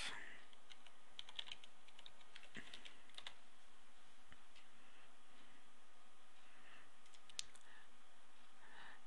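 Rapid clicking of a computer keyboard as someone types login details for a forum, a steady close run of light keystrokes over faint background hiss.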